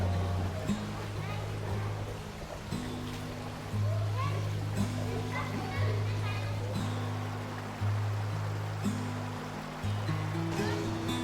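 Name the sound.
children playing and splashing in a river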